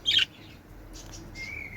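Small birds in an enclosure on a farm reserve: one sharp, fairly close chirp at the start, then a few fainter, higher tweets with no voices.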